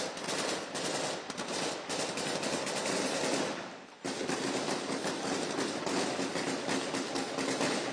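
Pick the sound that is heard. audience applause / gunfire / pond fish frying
gunfire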